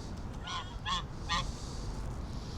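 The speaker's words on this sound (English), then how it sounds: "He's probably one of the most well-known geese in the country, Tango." A goose by a lake honking three times in a slow, evenly spaced series, moderately close, over a soft outdoor background with no talking.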